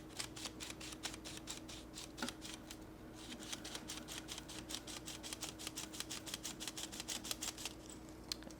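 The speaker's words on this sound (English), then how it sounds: "And we just start ratcheting." Plastic developing reel ratcheting as film is wound onto it, a steady series of sharp, close clicks in regular rhythm with a brief pause midway, alone without talk.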